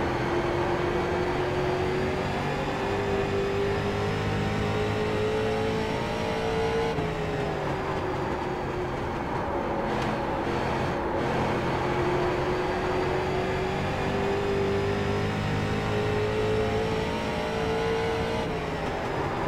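Race car engine on an iRacing oval race, a steady loud high-pitched drone with rising and falling pitch as the car laps, gears shifting around the midpoint, no talk.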